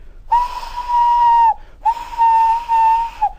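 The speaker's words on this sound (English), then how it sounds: "One day Thomas heard an engine whistling." Two long steady whistle blasts from a steam engine, each about a second and a quarter, loud and close with a short pause between, sounding clear and alone.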